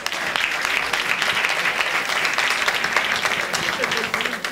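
A conference audience gives a sustained round of applause, a dense and even patter of many hands that holds at a steady level throughout, with faint voices mixed in.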